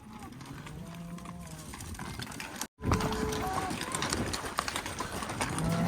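Cattle on a farm moo in several drawn-out calls against a busy outdoor background of movement and noise, with people talking at times.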